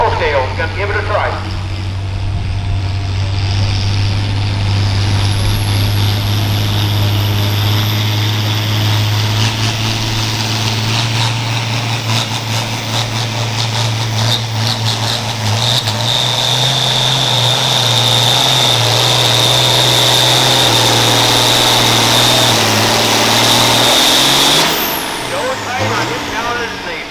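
Outlaw farm pulling tractor roaring under heavy load down the track at a tractor pull in Norwalk, Wisconsin; a loud, steady engine drone and whine holds for most of the clip, with an announcer talking over it.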